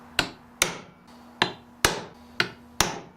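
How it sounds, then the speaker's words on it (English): Six sharp metallic hammer strikes land at an even, unhurried pace, each a crisp tap on a punch marking hole centers on metal, with a brief ringing tail. "take a hammer and a punch, and we want to punch centers of every one of these holes here"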